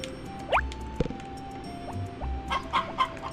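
Chickens in the Harvest Moon farming game give a few short clucks and squawks at intervals, with soft dripping, squishy game effects between them, fairly quiet and with no talk.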